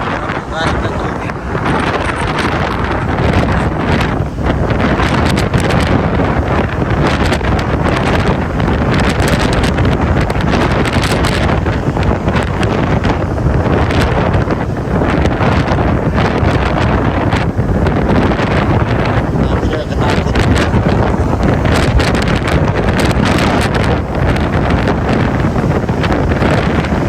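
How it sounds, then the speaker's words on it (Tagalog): Strong wind roars steadily into the microphone aboard a boat at sea, a loud continuous buffeting rush with gusty surges throughout. "Hangin."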